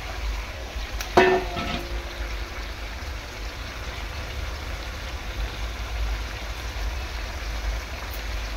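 Chicken pakoras tipped into a hot frying pan over a high gas flame: a sharp clatter as they drop in, then a soft, steady hiss of sizzling oil that runs on evenly throughout.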